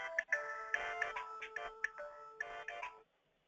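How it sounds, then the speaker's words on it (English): A bright electronic ringtone plays a quick, bouncy melody of short tones for about three seconds, then stops, with nothing else around it. "That's pretty funky ringtone."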